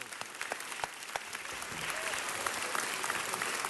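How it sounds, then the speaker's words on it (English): Applause from an audience at a city council meeting, a steady patter of many hands clapping that swells slightly and continues for several seconds, with no voices over it. "Let's give Dr. McClaney a round of applause."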